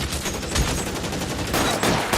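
Heavy-weapon gunfire in the video game L.A. Noire on PS4, dense rapid bursts of automatic fire crackling continuously and loudly, with a few heavier blasts standing out.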